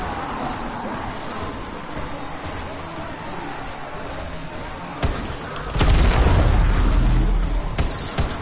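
Rocket launcher blasts in a zombie shooter game boom out as a sharp hit near the middle, then a heavy, sustained rumbling explosion, over a steady background din with some talk.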